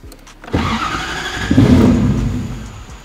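A Toyota Supra with a dead battery, out in pouring rain, cranks and catches roughly, its engine sputtering then surging loudly and unevenly as it struggles to keep running, close by.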